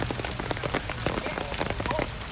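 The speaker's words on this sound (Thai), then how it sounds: "ฝนตกแรงมากครับ" Heavy rain pours down on a surface at an outdoor sepak takraw match, a dense, steady patter of drops filling the whole stretch with no voices over it.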